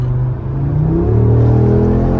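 A 2022 Audi RS3 in RS mode with its exhaust valves open, the engine note climbing in a loud, close rumbling rev that swells and holds steady.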